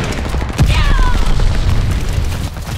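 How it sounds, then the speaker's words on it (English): A glide bomb explodes in the shooter game Call of Duty, a loud, close boom with rumbling gunfire and crackling debris that fade over a couple of seconds. "Enemy's got a glide bomb incoming"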